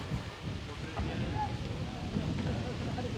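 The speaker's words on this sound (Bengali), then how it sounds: "প্রচুর বাতাস আছে কিন্তু ঠান্ডার মধ্যে না" Strong, mild wind blows through a riverside village, a low rumbling buffet against the microphone that swells and eases, with faint voices mixed into the outdoor air.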